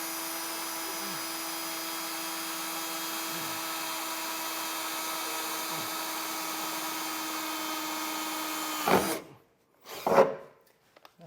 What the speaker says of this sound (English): we'll go ahead and get this drilled out